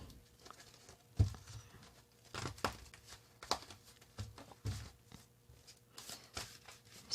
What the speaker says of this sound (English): So, I feel one more shuffle.